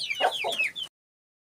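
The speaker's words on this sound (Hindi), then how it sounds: "बसंती भी एग देने लग गई, हमारी न्यू मुर्गी भी देने लग गई" Aseel chickens clucking close by in a quick run of short, bright, rising calls lasting under a second, then silence.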